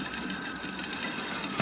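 Motorboat engine in the video game Call of the Sea, a steady, even mid-pitched drone humming without a break, moderately loud and alone.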